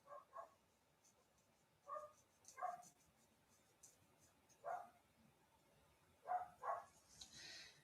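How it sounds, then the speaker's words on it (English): A neighbor's dog barks outside, heard faintly through an open window: scattered single and double barks spread over several seconds against a quiet background. "So it's some dog outside,"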